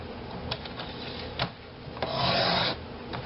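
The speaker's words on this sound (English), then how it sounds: "Now I can use my trimmer and just cut around the edge" A paper trimmer cuts around the edge of scrapbook paper for a Halloween pocket mini album: a few light clicks, then a short sustained scraping slice, close and fairly quiet.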